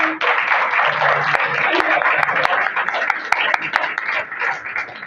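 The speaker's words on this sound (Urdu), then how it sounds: "آپ سب کی بھرپور تعلیوں میں ہم تالیاں بجائیں گے" A class applauds a teacher's appointment with dense, continuous clapping from many hands close by, a few sharp claps standing out, while voices mix in underneath.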